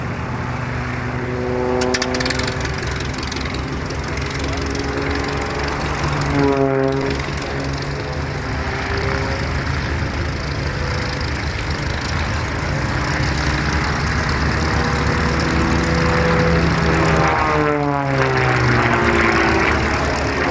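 Propeller-driven aerobatic aircraft performing a flying display at Halton Air Show, a loud continuous engine drone with rising and falling pitch as the plane swoops and manoeuvres overhead, steady throughout.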